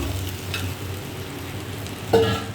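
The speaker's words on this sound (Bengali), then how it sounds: "এবার ভেজে রাখা আলুটা দিয়ে দেবো।" Fried potatoes dropped into a sizzling pan: a low steady frying hiss, then a sudden louder burst of sizzle with a clatter as they go in, close by and without speech.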